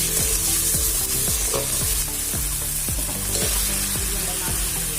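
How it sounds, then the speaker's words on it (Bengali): Potatoes with tomato, onion and green chili frying in hot oil, a loud steady sizzle broken by repeated rhythmic stirring scrapes in the pan, with no talking. "টমেটো পেঁয়াজ কাঁচা লঙ্কা তেলের ওপর দিয়ে ভালো করে একটু নাড়াচাড়া করে নিলাম তারপরে আলুগুলো দিয়ে দিলাম"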